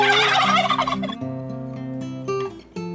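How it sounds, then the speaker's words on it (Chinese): A turkey gobbles loudly in a rapid rattling burst, followed by lower sustained tonal calls and a short final note, close and clear with no talk. "听规定火鸡咕噜咕噜对伊咧叫"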